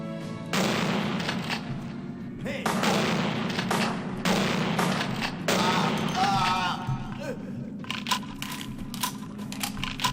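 Shotgun blasts from Vampire the Masquerade Bloodlines fire in repeated sharp bursts across the scene, layered over steady game music and ambience, with someone talking over much of it.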